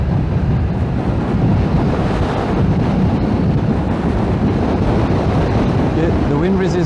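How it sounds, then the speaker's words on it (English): Steady, roaring wind buffeting rushes past the rider of a 2020 BMW F900XR motorcycle, a continuous broadband blast that stays loud and unbroken throughout. "the wind resistance is getting pretty bad right now"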